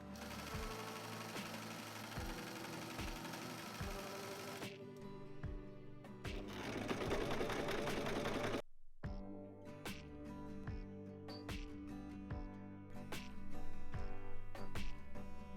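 Sewing machine top stitching a hem on a thin dress, rapid, even stitching in steady bursts with a short pause partway through, close and fairly faint.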